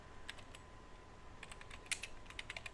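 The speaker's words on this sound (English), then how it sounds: "you can actually type in purple dresses" Light, irregular clicks of a computer keyboard being typed on, a few scattered keystrokes then a quicker burst near the end, quiet and close with no talking.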